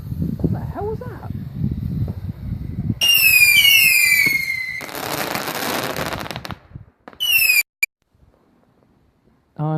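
Cheap backyard fireworks go off at night on fireworks night: a long whistling screech, a crackling burst of fizzing bangs, then another short whistle and pop, close and loud, with people talking before they start.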